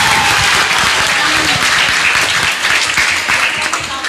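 Audience at an Indonesian religious debate on Sunnah versus Bid'ah claps for the first debate team, a loud, dense round of applause from a nearby crowd that carries on for several seconds and tapers slightly at the end.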